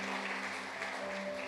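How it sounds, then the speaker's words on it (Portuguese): Brief burst of congregation applause during a Portuguese-language church family service, a dense wash of hand clapping over a sustained keyboard drone, moderately faint. "Você pode dar uma salva de palmas ao Senhor?"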